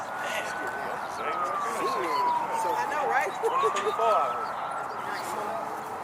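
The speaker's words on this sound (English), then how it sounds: "It's a lot of sirens." Police sirens wail in the distance, their pitch sliding up and down, while a person speaks briefly over the steady background noise during an armed march through Atlanta streets.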